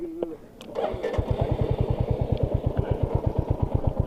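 A Royal Enfield Hunter 350 motorcycle engine starts after a brief blip and settles into a close, loud, steady thumping idle with an even, regular beat.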